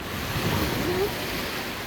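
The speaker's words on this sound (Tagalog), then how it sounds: "lakas ng alon" Strong ocean waves at the shore at Noja, Cantabria, Spain, a continuous broad roar of surf mixed with wind noise, steady and loud for the whole stretch.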